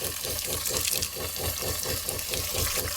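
Water gushes from tanks mounted under a 4WD camping trailer to rinse off mud, a close, continuous splashing stream with a slight rhythmic pulse throughout.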